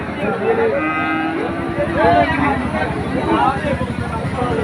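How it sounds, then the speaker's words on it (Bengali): Cattle, including cows, low and moo amid a busy cattle market crowd, with chatter and general babble running underneath the calls. "এই যে দারুণ দারুণ গাই গরু"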